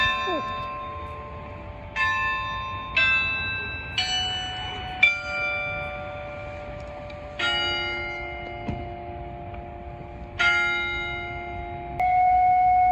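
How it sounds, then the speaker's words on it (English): A giant cuckoo clock at the Bavarian Inn rings its bells in a melodic chime sequence, clear ringing tones struck every second or two and sustaining over faint background crowd murmur. "The bells, the clock chiming"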